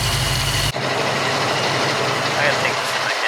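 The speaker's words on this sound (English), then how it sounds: "My car is making some terrible sound." A Chevrolet Camaro engine running roughly after a jump start, a continuous low rumble that begins with a louder burst, then carries on steady and close with some faint extra noise.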